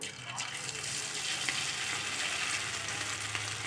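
Rice pakoda batter fries in hot oil, a steady, dense sizzling hiss that holds evenly throughout at moderate volume, with faint brief pops.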